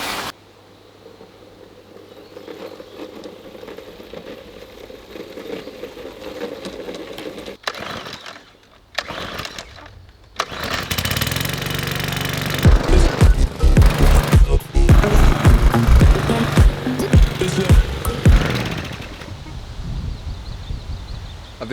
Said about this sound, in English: mowing the lawn barefoot is just awesome